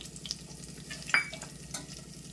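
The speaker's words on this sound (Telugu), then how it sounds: "ఇప్పుడు హై ఫ్లేమ్లో పెట్టి కొంచెం వేగనిద్దాము. తెల్లగడ్డలు చూడండి, ఎండుమిర్చి కొంచెం వేగిన తర్వాత" Garlic and dried red chillies fry on a high flame, with a soft, steady sizzle and a few brief scrapes of stirring and one sharper clink, heard alone without talk.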